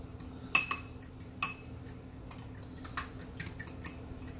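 A spoon stirs cinnamon into French toast batter in a bowl, giving two sharp clinks early on followed by lighter, scattered taps and scrapes, close and fairly quiet with no talking.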